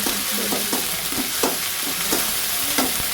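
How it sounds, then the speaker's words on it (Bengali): A spoonful of garlic fries in a pan with a constant hissing sizzle, broken by a few soft scraping strokes of a spoon at irregular intervals, heard up close with nobody speaking. "রসুনটা আগে একটু ভালো করে ভেজে নিয়ে তারপরে আমি অন্যান্য মশলাগুলো এর মধ্যে দিয়ে দেবো"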